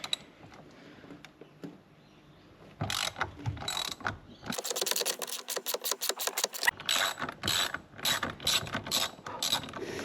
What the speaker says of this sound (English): grab your ratchet and your T50 Torx bit and you can get to the main bolt